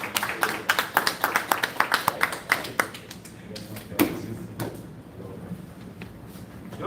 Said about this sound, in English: you'll give Dr. Philip a round of applause again